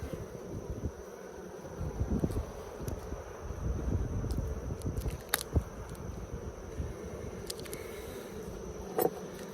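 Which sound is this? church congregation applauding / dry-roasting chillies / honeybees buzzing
honeybees buzzing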